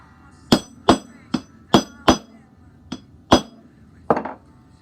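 Eight sharp metallic taps from a hammer driving out a pin held in a vise, loud and close, spaced unevenly about half a second apart, each one ringing briefly.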